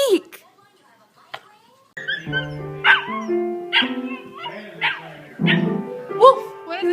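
A puppy barks on command in short high yips and woofs, several in a row, between bursts of people talking close by.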